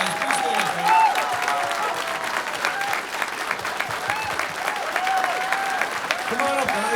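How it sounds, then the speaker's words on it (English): Sustained crowd applause fills a call centre grand opening, honouring guests from the Salvation Army; dense steady clapping runs throughout with cheers and voices rising over it. "I want to give them an outstanding applause."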